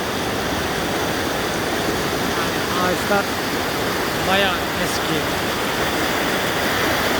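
A forest stream rushes steadily near a waterfall in the Kaz Dağları mountains, making a loud, even roar of flowing water. Someone speaks briefly over it.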